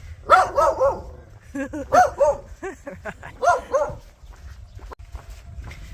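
Several dogs bark repeatedly at a moderate distance, sharp yaps in quick bursts with short pauses, some higher yips mixed in.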